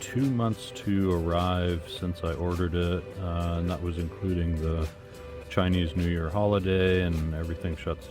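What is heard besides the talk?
No everyday noises stand out.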